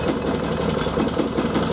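A small gasoline engine on a UTV-mounted snowblower runs steadily just after the choke is eased, a close, even, rapid chugging idle with a rattling vibration and no talk.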